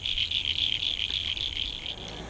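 A chorus of frogs trills on and on beside a lake shore, a constant pulsing high chirr at even, moderate loudness with a faint background hum and no voices.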